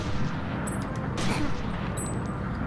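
Gunfire in the gangster strategy game Omerta: City of Gangsters, a rough burst of shot noise over a busy game backdrop with a short sharp crack near the middle and faint high pings.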